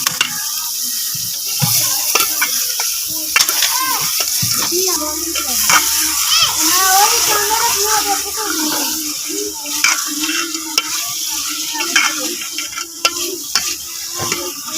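Chicken pieces fry in a pan for a chicken and potato salan, giving a continuous close sizzle broken by frequent stirring scrapes and clinks, with a faint voice in the background.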